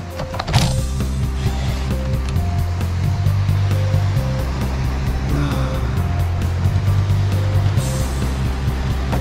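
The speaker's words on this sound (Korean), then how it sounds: "밤새 파도 소리가" Ocean waves break on a beach at Geumdang island in Goheung, South Korea, heard overnight from a campsite as a loud, continuous rumbling wash, with a low engine-like hum and some rhythmic mechanical clicking mixed in.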